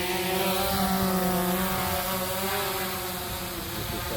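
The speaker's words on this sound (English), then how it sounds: "So let's go ahead and do precision takeoff." A DJI Phantom 4 Pro V2 drone lifting off in an open field, its propellers giving a steady, loud, close multi-tone whine that holds throughout with no talking.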